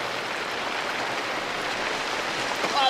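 Rain falls steadily in a war film scene where soldiers sleep out on wet mud, a soft, even hiss filling the whole stretch with a brief faint swell near the end.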